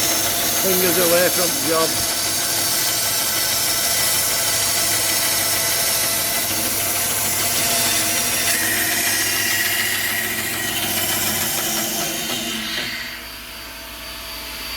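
A cheap Aldi bandsaw with a new blade cuts through wood alongside a running vacuum, a loud steady whine and drone that fades near the end, with someone speaking briefly.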